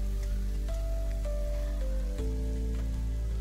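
Tomatoes fry in a hot pan for pabda fish curry, giving off a steady, dense crackle and sizzle close by throughout.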